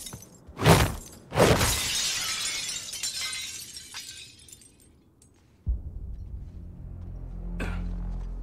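Glass shatters in the video game Suicide Squad: Kill the Justice League, with two loud crashing bursts close together followed by a long tinkling spray of falling shards, then a low rumbling hum.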